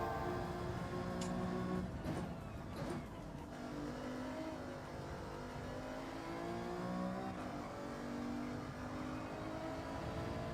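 A car engine in the Gran Turismo 7 racing game, revving and accelerating with rising and falling engine tones over about ten seconds, steady and fairly loud, with a few brief sharp bursts early on and no talking.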